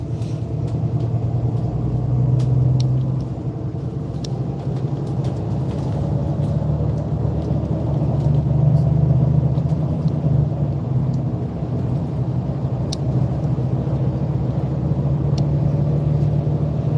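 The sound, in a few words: bus driving, engine rumble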